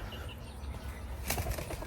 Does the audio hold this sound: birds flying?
yes